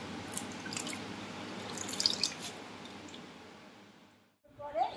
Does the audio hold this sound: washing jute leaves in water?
yes